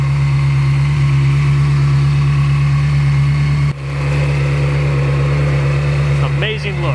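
A Ferrari 360 Spider's 3.6-liter dual overhead cam 40-valve V8 with variable valve timing idles with a steady, close, low rumble while someone talks over it.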